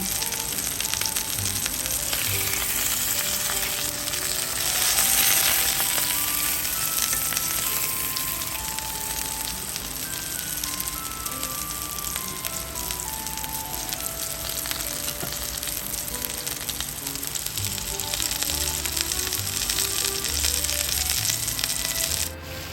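Chicken pan-grills in a pan, sizzling steadily, a continuous close crackle with occasional scraping, no voices.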